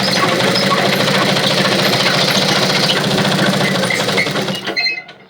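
A simple domestic sewing machine stitches a saree fall in a fast, steady mechanical whir of rapid needle strokes, loud and close, then slows and stops near the end.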